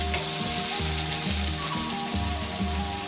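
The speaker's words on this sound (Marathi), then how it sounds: "मस्त असे टमाटर पण छान आपल्याला परतून घ्यायचे हलकेचे सॉफ्ट होऊ द्यायचे" Tomatoes sautéing with hot onions in a pan, giving a dense crackling sizzle over rhythmic low scraping strokes as the mixture is stirred, moderately loud and continuous with no speech.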